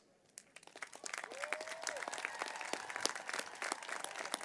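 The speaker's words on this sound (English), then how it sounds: "Supporters, a big round of applause." Audience in the stands at a 2019 spring undergraduate university commencement in Northern Colorado breaks into applause, starting faint and swelling into steady, dense clapping from a large crowd, with a brief voice rising over it.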